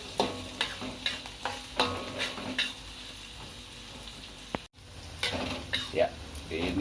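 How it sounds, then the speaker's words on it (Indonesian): Spice paste for stir-fried banana blossom with anchovies is stirred and sautéed in a pan, with soft scraping strokes and a gentle sizzle, plus occasional clinks of a utensil against the pan. A brief gap of silence comes midway. "sekarang saya aduk-aduk. Lagi saya sedang tumis bumbunya."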